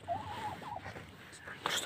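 Poultry calling in a rural yard, a faint wavering cluck-like call early on followed by a few brief sharp chirps, soft and somewhat distant.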